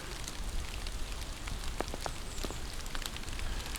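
Rain falls outdoors during landscape photography, a dense steady hiss with scattered sharper drop ticks close by, no voices.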